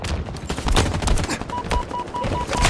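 Gunfire in the Halo video game crackles in dense, continuous rapid shots, with a faint repeating beep-like tone toward the end.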